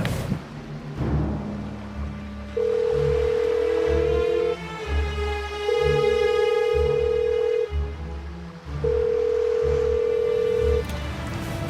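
A phone call rings out unanswered, three long steady ringback tones separated by gaps, fairly loud and close, over a low background rumble.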